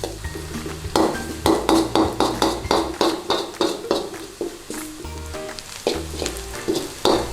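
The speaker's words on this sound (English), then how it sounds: "So let's get the onions in there, let's get them all stirred round" Onions sizzling in a hot pan for a chicken dopiaza while a utensil scrapes and clinks against the metal in a steady, repeated stirring rhythm, close and clear with no voices.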